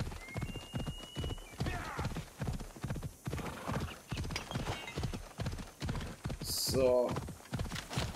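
Horse hooves clop in a steady galloping rhythm while riding in Assassin's Creed Odyssey, running throughout under a voice, with a brief whinny near the end.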